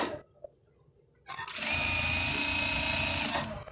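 A sewing machine starts after a quiet pause and runs steadily for about two seconds, a fast, even mechanical whir while stitching the side pocket of a panjabi.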